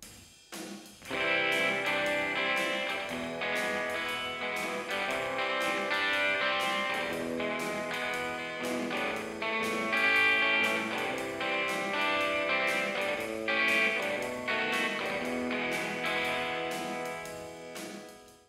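Electric guitar plays the verse of a song as a steady, strummed rhythm of chords without accompaniment, continuous and moderately loud with no talking.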